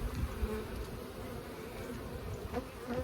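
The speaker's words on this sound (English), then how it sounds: "there's not a lot of bees in here, but there is brood" A steady, close insect hum of bees buzzing in a Langstroth hive with few bees, continuous and even throughout with no voices.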